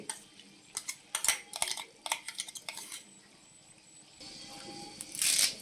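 A utensil stirs masala into frying chicken in a pan, giving quick scraping strokes against the metal, then a softer oil sizzle takes over near the end. The sounds are close and moderately quiet.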